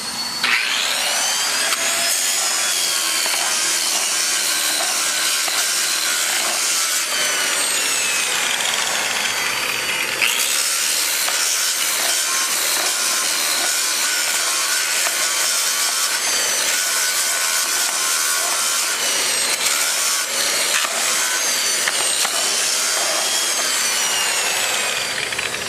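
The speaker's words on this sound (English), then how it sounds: "We've chosen to use a portable grinding system with a saw attachment." A portable grinder with a saw attachment and ZEC wheel grinds down a cured concrete spall repair, producing a loud, continuous, harsh abrasive roar with a brief dip in pitch midway before grinding resumes.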